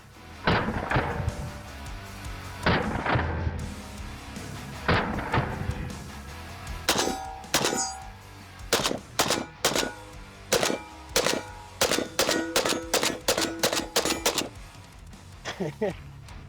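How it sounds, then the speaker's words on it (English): A cursed AK rifle in PPSh style is bump fired: a few sharp single shots, then rapid ragged bursts of close, loud gunfire with short gaps, and a final short burst. "I haven't tried bump fire in fucking years."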